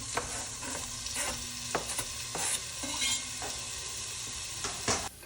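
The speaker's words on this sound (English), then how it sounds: "You're gonna wanna just saute this for 2 to 3 minutes until it starts to get a little bit translucent" Pepper, onions and garlic sauté in a pot for Thai red coconut curry soup, giving a steady low sizzle broken by repeated scraping stirs with a utensil, close and moderately quiet.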